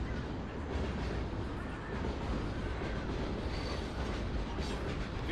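A train rumbles in the video game Call of Duty: Ghosts, a steady, broad mechanical roar with faint rattling, continuous and moderately loud throughout.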